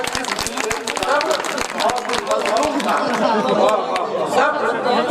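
Audience applause at a mushaira poetry recital in Jalgaon, with many hands clapping in rapid, dense bursts throughout, mixed with crowd chatter and voices talking over it.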